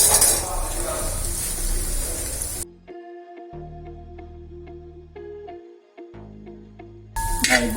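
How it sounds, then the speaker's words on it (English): Cashew nuts frying in preheated ghee give a dense, close sizzle for a couple of seconds, then it cuts off abruptly into a quiet tonal music passage before the sizzle briefly returns. "Now we will just first fry this cashew nut."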